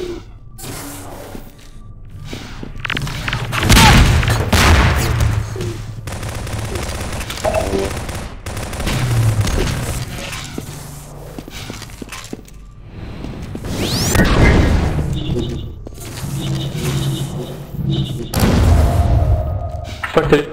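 Rocket launcher fire and blasts in a Half-Life 2: Deathmatch match, loud bursts and thuds repeating through the clip amid other gunfire, with players talking over the action.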